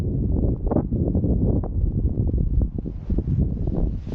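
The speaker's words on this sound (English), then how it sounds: "Last time I did it, it was not windy like this." Gusty wind buffeting a climber's microphone on the Wildcat D ski trail in summer, a loud steady rushing roar with rustling swells throughout, no voices.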